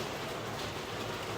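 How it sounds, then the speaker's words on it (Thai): Steady rain falling outdoors, a continuous broadband hiss of drops on surfaces with no clear pauses, moderately quiet and heard alone. "แต่ฝนตก"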